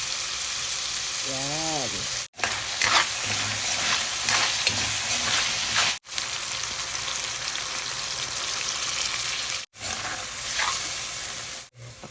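Pansit canton noodles with chayote and carrots stir-fried in a pan with oyster sauce and pepper, a steady loud sizzle with scraping stirs, briefly cut by pauses, while a voice speaks over it.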